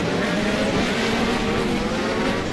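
Race cars from a Serbian Grand Prix round of the SSCC series lapping a tight, small track, their engines roaring loud and steady close by with a continuous dense drone and no clear pauses.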